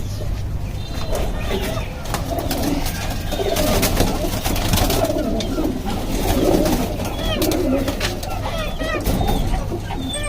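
Pigeons coo repeatedly close by in a loft where home-bred birds are kept, soft rounded calls overlapping in loose rhythm while someone talks steadily over them.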